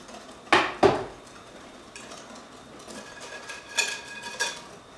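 Hot milk being mixed into eggs for a custard filling: two sharp clinks of a utensil against a bowl, then quieter scraping and light tapping as the mixing goes on.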